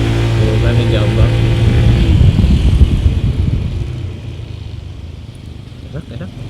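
A Honda ADV scooter with its standard exhaust and a DRB tune revs loudly up close, its droning engine note rising and then fading as it pulls away, with someone talking over it.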